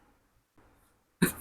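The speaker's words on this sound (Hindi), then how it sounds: "मुझे खांसी हुई है थोड़ी सी।" A single short, sharp cough bursts out near the end after near silence, close and fairly loud.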